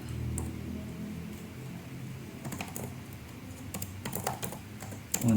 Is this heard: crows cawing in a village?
no